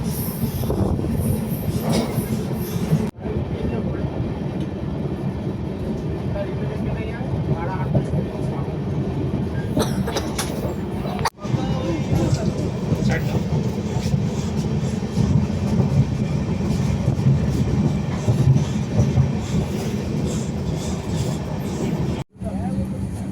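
A moving passenger train rumbles on steadily, with rolling wheel noise, rattles and occasional squeals, heard from inside or beside the carriages under faint background voices.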